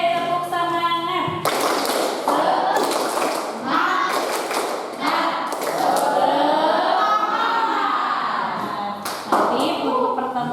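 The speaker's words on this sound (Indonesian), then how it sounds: "Semangat kelas 7B, tepuk semangat." A class of seventh-grade pupils claps out a rhythmic spirit chant in bursts of sharp taps and claps, mixed with children's voices and the teacher speaking in a classroom.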